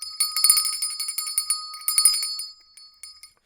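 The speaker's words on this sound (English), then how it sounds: "Lord Crashman wants me to ring the bell." A small bell rung in a workshop while assembling a Gundam Aerial HG model kit: bright metallic dings in two quick bursts, close and clear, ringing out and fading into silence.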